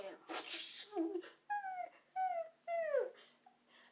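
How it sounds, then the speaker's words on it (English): A dog whimpers and whines in drawn-out, falling cries, three clear ones in a row after some rustling and brief sounds, close and fairly loud. "the dogs would start whimpering at Naruto and backing away from him"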